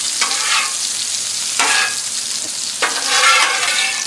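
Brussels sprouts and bacon cook on a Blackstone griddle. A loud steady sizzle swells in bursts as the food is turned and pushed across the hot flat-top.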